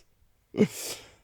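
A single sneeze from a person at a talk or event, a short sharp burst after a quiet moment and trailing off into breath, fairly close and alone.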